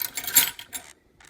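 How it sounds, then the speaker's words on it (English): Jamaican toto batter with nutmeg and cinnamon being mixed in a bowl: a few quick, close scraping and clinking strokes of a utensil against the bowl, then a brief pause and one more soft stroke. "We're gonna mix again."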